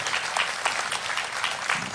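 An audience at an Indonesian regional pop songwriting competition claps steadily, a dense, even wash of applause that stays at a constant loudness throughout the short stretch.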